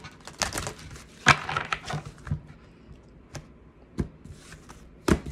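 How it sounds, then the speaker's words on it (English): Playing cards riffled during a tarot-style reading, a few short bursts of shuffling spaced irregularly, close and fairly quiet with no talk. "I already pre-shuffled, so I'm just going to do 2 more shuffles"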